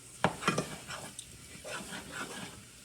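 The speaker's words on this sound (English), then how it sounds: "we're going to constantly stir this" Choux paste for eclairs being stirred constantly in a pan on the heat, a few sharp scrapes and knocks of the spoon at the start, then a softer continuous scraping and faint sizzle.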